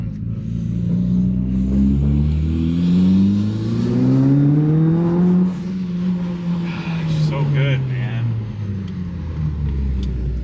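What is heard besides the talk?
sports car engine revving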